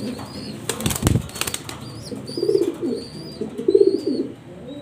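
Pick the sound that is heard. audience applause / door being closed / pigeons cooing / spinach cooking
pigeons cooing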